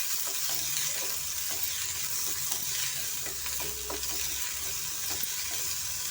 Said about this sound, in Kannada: ಈರುಳ್ಳಿ ಸೇರಿಸ್ತಾ ಇದ್ದೀನಿ ದೊಡ್ಡ ಸೈಜ್ ಒಂದು ಈರುಳ್ಳಿ ತೊಗೊಂಡಿದ್ದೀನಿ